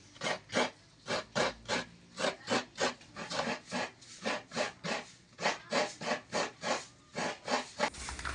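Coconut being grated by hand in a steady, even run of about twenty rasping scrapes over eight seconds, each stroke a bright scratchy burst close to the listener, with no talking.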